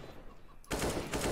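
Two gunshots in CS:GO, a sudden loud burst after a quiet stretch, with a second shot close behind the first, both sharp and near over a dull background.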